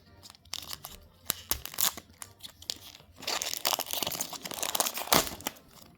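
Digimon BT-24 Time Stranger booster packs torn open up close, with bursts of crisp foil crinkling and ripping scattered across the stretch, loud and alone with no talking.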